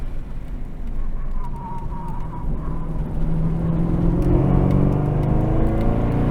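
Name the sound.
Chevrolet Camaro ZL1 1LE driving on a race track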